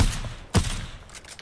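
Gunfire in an online shooter match with squads and ziplines, a close burst at the start and a sharp loud shot midway, followed by a rough, noisy game-sound tail.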